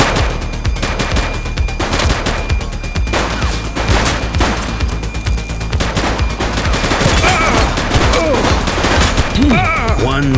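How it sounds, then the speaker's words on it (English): Police gunfire in the video game The Precinct, with dense rapid bursts of automatic fire and single shots rattling continuously and loudly, mixed with crashes and clatter. "Shots fired!"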